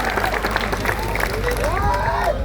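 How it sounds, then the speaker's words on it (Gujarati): Crowd at an Aam Aadmi Party political rally claps and cheers steadily, a dense wash of applause with a voice carrying over it. "બધા માટે એકવાર જોરદાર તાળીઓ પાડી લો."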